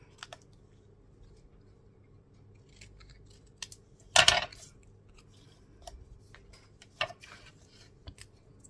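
Scissors snip through card in one sharp burst at a craft table, followed by a few scattered light clicks and taps; nearby, moderately quiet and with no talking.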